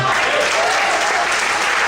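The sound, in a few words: church congregation applause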